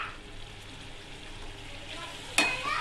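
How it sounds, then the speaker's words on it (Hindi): Tomato puree and beetroot for pav bhaji sizzle on a high flame with a soft, steady frying hiss, ending in a sharp scrape or clatter near the end. "ताकि टोमेटो प्यूरी और बीट रूट अच्छी तरीके से पक जाए।"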